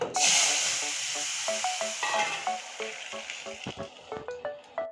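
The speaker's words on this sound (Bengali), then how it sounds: "এখন আমি এখানে কমলি শাক ঢেলে দিচ্ছি ফোড়নে" Water spinach greens hit hot tempering oil in a pan and sizzle loudly at first, the hiss easing as spatula strokes and light scraping clicks repeat through the frying.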